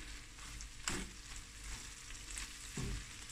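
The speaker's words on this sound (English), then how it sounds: "now I'm going to just let this fry another minute, turn it around" Garlic chilli prawns frying in a pan give a steady close sizzle, with a couple of brief louder bursts as they are stirred or turned.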